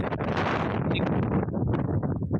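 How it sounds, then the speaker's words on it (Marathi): Strong monsoon wind blows at Sagargad hill fort, loud gusty buffeting straight into the microphone, rumbling and roaring continuously with no speech. "वारा पण आहे ना भरपूर जोरात आहे"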